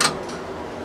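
A pop-up call button in a 1977 Valmet-Schlieren traction elevator gets pressed, giving one short sharp click up close, followed by faint room noise.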